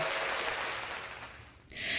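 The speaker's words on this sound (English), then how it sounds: "I'm going to give you an applause and count you down" Broad crowd applause in a studio during a television weather segment, dense and steady, fading out toward the end before a short burst of brighter sound.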